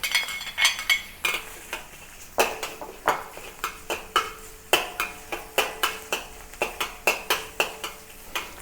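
Garlic being stir-fried in a pan, with repeated rhythmic scrapes and clinks of a spatula against metal over a light sizzle, close and steady.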